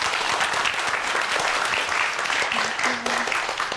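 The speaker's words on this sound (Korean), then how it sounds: "큰 박수로 환영해 주세요." A studio audience applauds to welcome a guest on a Korean TV talk show, a dense burst of clapping throughout with brief faint tones near the end.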